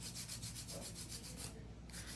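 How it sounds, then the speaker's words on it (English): Hand file rubbing across the base of a gel nail in a salon set, a soft rhythmic scratchy rasp of quick even back-and-forth strokes, close up with no talking. "use a little bit of hand filing on the base of the nail"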